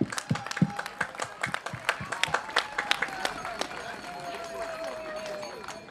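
Outdoor demonstration crowd at a large rally in Aalen breaks into applause: scattered claps build into a dense, steady patter of many hands, with a voice or faint whistle-like tone lingering underneath.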